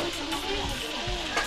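Food sizzles and crackles in a hot frying pan, a dense continuous hiss close by, with faint voices talking in the background.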